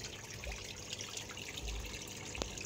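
Rinse water from an automatic washing machine flows in a soft, steady trickle, faint and close, with a few small drips and splashes standing out near the end.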